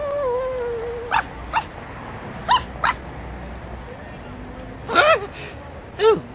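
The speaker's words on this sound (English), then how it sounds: "You scared a silly little pup." A frightened cartoon puppy barks and yips in short, high, wavering bursts spaced across the scene, fairly close and clear, with a brief whine at the start and no speech over it.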